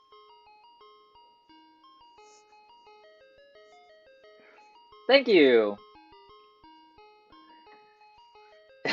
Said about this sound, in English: Oh, hey, ice cream truck.